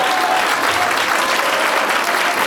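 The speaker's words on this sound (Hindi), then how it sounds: "ताली बजाओ मेरे साथ, ताली बजाओ जोर से" Loud, dense clapping from a church congregation at an Easter celebration service, close and continuous with no pause.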